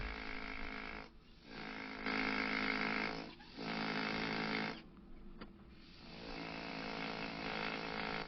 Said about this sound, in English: This tool is kind of like a miniature pneumatic hammer.